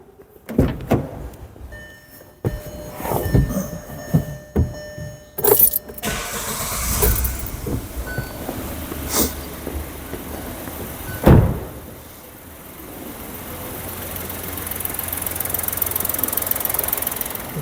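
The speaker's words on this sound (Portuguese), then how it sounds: "Já vou dar uma partida no carro aqui." A car is started, with sharp clicks and knocks of the key and starter up front, then the engine catches and settles into a steady idle that hums on alone.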